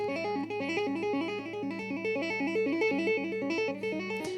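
Electric guitar plays a fast triplet tapping lick in the math rock manner, a steady, even stream of rapid repeating notes over a sustained low drone, close and continuous, with no talking.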